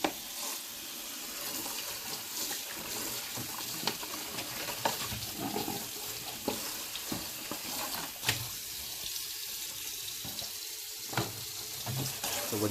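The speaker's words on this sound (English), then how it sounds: "So make sure you wash your mushrooms really well." Tap water running into a kitchen sink while mushrooms are washed, a steady close splash with occasional clatters and knocks, and voices talking quietly over it.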